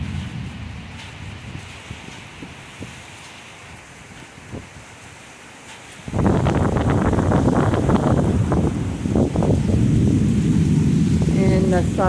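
A severe thunderstorm with rain blown sideways by the wind: a quieter stretch of patter and gusts suddenly gives way to a loud, steady roar of wind and driving rain, with a voice speaking briefly over it.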